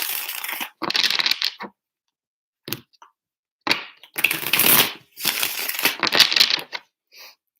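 Tarot cards being shuffled in bursts, crisp riffling and crackling rasps separated by short silences, close and fairly loud with no talking.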